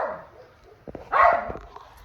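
A dog nearby gives a short bark and a few whimpering yips, close and moderately loud, in an otherwise quiet outdoor setting near a car.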